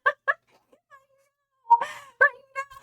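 A cat's meows, two short calls, then a pause, then a longer wailing meow followed by a few more mewing calls, close and fairly loud, with no talking.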